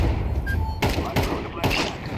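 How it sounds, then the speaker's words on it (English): In Counter-Strike 2, a grenade and a flashbang are thrown, giving a few sharp thuds and bursts in quick succession under talk. "I'm throwing a grenade. Flashbang. Decoy."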